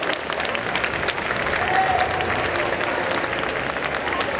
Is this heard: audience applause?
yes